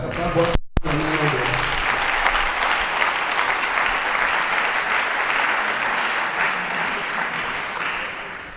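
A church congregation bursts into sustained, loud applause that fills the room evenly, with a brief voice at the very start before the clapping takes over.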